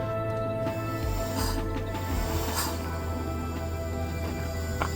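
Compressed air hisses steadily from a leak in the brakes of a DAF LF45 bus, a constant broadband hiss over the idling engine's low hum with a few faint knocks.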